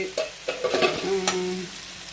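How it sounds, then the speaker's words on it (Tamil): Chicken for chicken sukka sautés over a high flame in a pan, with loud sizzling and a series of quick scraping stirs and clinks close by, and no one speaking. "நல்லா வதங்கணும், கறியை விடாமல் வதங்கணும், நல்லா வதக்கணும்."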